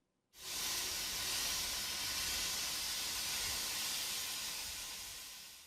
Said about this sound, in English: so steam escaping from a manhole, which is here